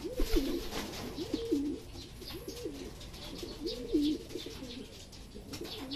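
Racing pigeons coo in a repeated, rolling rhythm close by, with faint chirps and background rustle, no voices.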